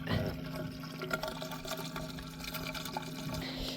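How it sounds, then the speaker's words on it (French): Water siphoning from jerrycans into a boat tank, a steady gurgling and trickling flow of liquid running continuously at moderate volume over a low hum. "l'eau, un coup qu'elle a réussi à passer, ça fait un effet de siphon, puis ça aspire l'eau"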